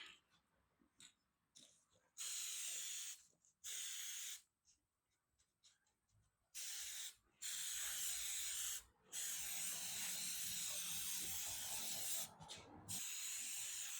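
A coat sprayed onto a widebody S10 body part in a series of roughly six loud, close hissing bursts of varying length, separated by near-silent pauses.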